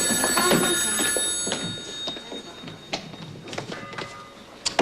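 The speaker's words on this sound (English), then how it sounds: "I'll get the phone." A telephone rings in a diner with several bright, repeated bell bursts in an uneven rhythm and a little background clatter, mostly free of voices.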